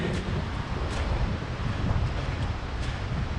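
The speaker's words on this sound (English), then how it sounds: "windy here" Strong wind buffets a microphone in a continuous low roar with gusty rumbling and no voices, on boggy open ground beside a big drop.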